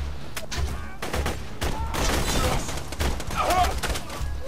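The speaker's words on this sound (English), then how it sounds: "I finally get out my rifle just to finish everything off" Rifle fire in the video game Borderlands 2, a run of rapid repeated shots with short bursts spread across the whole stretch, loud and close, over steady game background noise with no talking.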